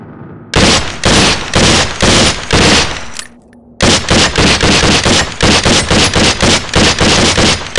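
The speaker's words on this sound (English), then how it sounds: "The M4 fires in semi and full auto modes, while the submachine gun has semi-auto and a 3-round burst." Rifle and submachine gun fire on a training range in the game SWAT 4: loud, close bursts of rapid automatic shots in several volleys, a brief pause near the middle, then sustained repeated bursts.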